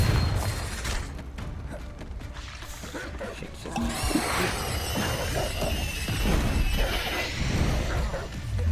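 A Confringo blasting spell goes off in the Hogwarts Legacy video game: a busy, crunchy burst with crackling debris and a rising magical sweep, layered over continuous game effects.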